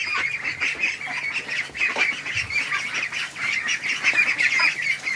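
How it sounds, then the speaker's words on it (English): A crowd of ducks quacks inside a barn, dense overlapping honks and quacks that keep going without pause, close and fairly loud. "ducks, what's going on in here?"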